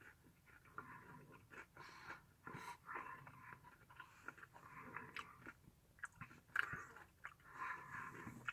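A Crunch chocolate bar is chewed close up, with a steady run of soft crunchy bites and mouth noises, faint overall with a few sharper crackles.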